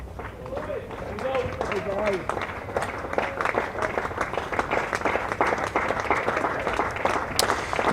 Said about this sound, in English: The applause you can hear is for the 2 not-out Glamorgan batsmen